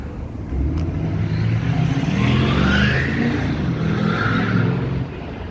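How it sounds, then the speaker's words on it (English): A big pickup truck drives past on a downtown Edmonton street, its engine and tire noise swelling loud and then fading, over a steady background of city traffic. "That was a big ass pickup truck making all that noise."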